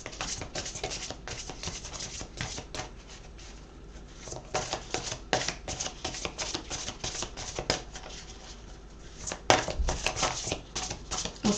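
Tarot cards shuffled and handled during a card reading, with dense, continuous riffling and slapping of the deck, close and moderately loud, with a few sharper snaps along the way.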